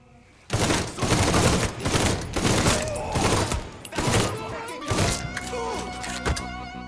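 Rapid gunfire bursts and reloads in the Mafia 3 video game, several loud volleys of bullets with short pauses between them, game sounds filling the gaps.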